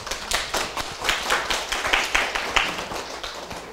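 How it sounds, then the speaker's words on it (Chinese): An audience claps for several seconds to welcome a speaker to a lecture hall. The clapping is steady and close, rising and falling in even waves. "请大家用掌声欢迎"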